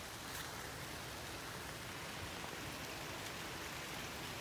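Quiet, even wash of falling rain after a Christmas thunderstorm, a soft steady hiss with no voices or distinct drops.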